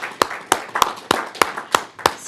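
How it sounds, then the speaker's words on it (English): Seven evenly spaced hand claps ring out close and crisp in a quiet meeting room, a slow steady rhythm about a third of a second apart. "At this, I'm quietly clapping."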